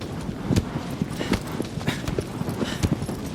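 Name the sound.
horse Agro galloping in video game Shadow of the Colossus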